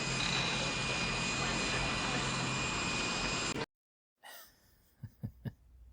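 An airplane in flight in the film Commando gives a loud, steady engine roar that cuts off abruptly, followed after a pause by a few low thumps.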